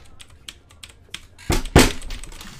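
Sharp clacks come from a gaming keyboard during a rage outburst. Light scattered key taps lead into two loud, violent slams near the end, followed by a few softer clatters.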